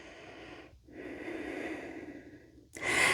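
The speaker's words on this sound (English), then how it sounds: "So breathe your way through it." Slow, deep breaths during a vinyasa yoga flow come in close and audible, with a long airy exhale, a brief pause, and then a sharper, louder inhale at the end.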